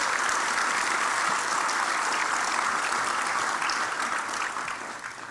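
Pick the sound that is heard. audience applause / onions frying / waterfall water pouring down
audience applause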